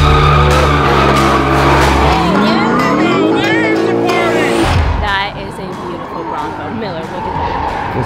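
A car doing a burnout at the SEMA show, its engine roaring loud and close with tire squeal and skidding noise, then dropping off into a rougher idle and crowd murmur with people talking.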